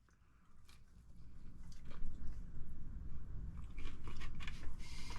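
Someone bites and chews a freshly caught calamari wrap topped with Kewpie mayo, cooked outdoors at a beach campsite, with soft crunching and wet chewing close up against steady background noise.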